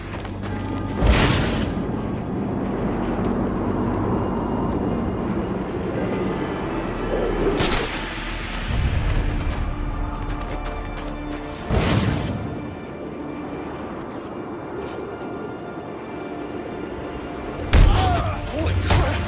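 Bomb explosions in the video game Batman Arkham Origins: several loud, heavy booms spaced a few seconds apart, each rising sharply and then decaying over a continuous background rumble.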